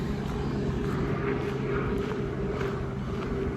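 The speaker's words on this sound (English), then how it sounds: "And a helicopter flying over." A helicopter flies over a park arboretum, its low rotor drone and engine rumble holding steady and fairly loud throughout, with a faint rhythmic pulsing on top.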